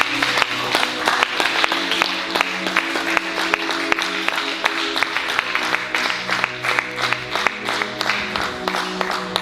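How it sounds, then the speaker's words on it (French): A church congregation claps and cheers for the Lord, rhythmic clapping in time with an underlying musical tone, lively and close with crowd voices mixed in. "Qu'on acclame le Seigneur."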